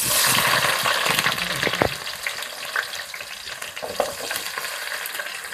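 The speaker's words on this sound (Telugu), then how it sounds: "ఈరోజు నేను చికెన్ ఫ్రై చేస్తున్నానండి" Chopped onions frying in a pan as the start of a chicken fry, sizzling loudly at first and then settling to a steady crackle as they are stirred.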